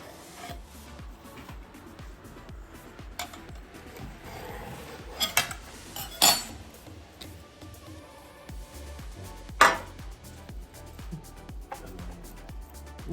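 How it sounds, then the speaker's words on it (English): A knife scrapes and taps against a baking pan while trimming pie crust for grandma's marzipan bars, with soft clinks of metal and dishes and a few sharper knocks scattered through quiet kitchen handling. "I'm just taking a knife and I'm gonna cut it"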